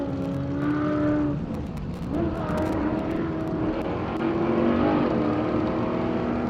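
Off-road race car engine howling as it tears off the start line at a 4WP Every Man Challenge qualifying event, a loud sustained roar rising and falling with broad mechanical noise throughout.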